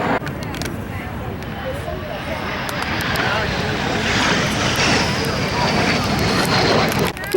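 A jet aircraft at the EAA AirVenture Oshkosh 2025 jet demo day airshow, a steady roaring engine whoosh that swells gradually and holds, with crowd noise and scattered voices around it.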